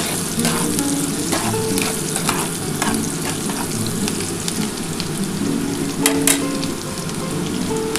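Onions fry in a pan with a dense, steady sizzle and crackle, heard up close and fairly loud. Scattered stirring clicks and scrapes come through over the hiss, and nobody speaks.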